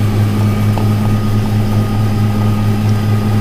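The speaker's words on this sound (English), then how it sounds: "it really hums this straw blower good" A steady, loud mechanical drone of a tractor-driven straw blower running continuously, a deep constant hum with no pauses.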